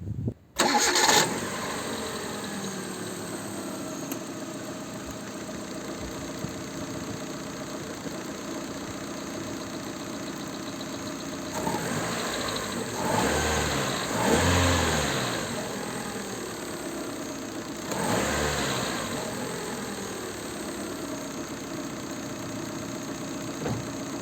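Hyundai Accent Era car engine after an ignition coil replacement, cranking and catching at the start, then idling steadily close by with a couple of brief revs midway and later.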